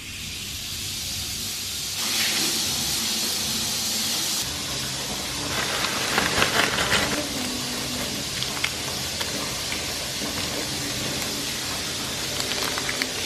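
Steady fizzing and hissing of a bath bomb in hotel bathtub water continues close up for several seconds with faint crackles and no talking.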